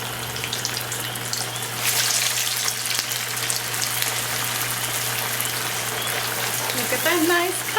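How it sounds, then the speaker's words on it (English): Spicy cassava meat fritters, alcapurrias de yuca, go into hot oil frozen and fry with a steady crackling sizzle that jumps louder as they are added, with a person talking over it. "we're gonna go ahead and start frying it"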